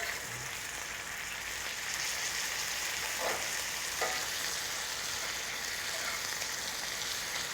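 Bacon with cherries frying in a hot pan gives a loud, continuous sizzle and crackle, with a couple of brief scraping clinks as the strips are turned.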